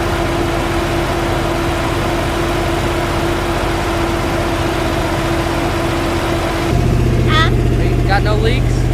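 A swapped 6.0 V8 in a Chevrolet Silverado is held at a steady 2,000 RPM during break-in, giving a loud, constant droning hum close by. People talk faintly over it near the end.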